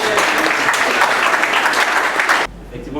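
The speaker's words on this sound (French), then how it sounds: "On peut applaudir pour vous." Audience applause at a presentation of an organization's headquarters, a dense crowd clapping steadily for about two and a half seconds before cutting off abruptly.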